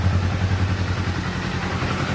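A 2024 Kawasaki Z500 SE motorcycle idles close by, with a steady, even low-pitched engine pulse throughout and no voices.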